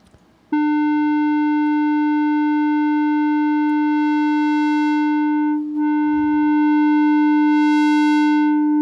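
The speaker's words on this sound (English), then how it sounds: "I'll start up a little sine wave going on here" A steady electronic sine-wave test tone starts abruptly and holds, loud and pure, with a brief dip partway through before continuing.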